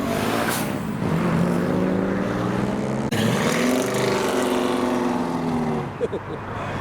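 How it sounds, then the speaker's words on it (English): A motorbike pulls away from a busy car meet, its engine note rising in two revving pulls with a brief gear change between them, fairly close and loud over crowd noise. "There's a motorbike trying to leave."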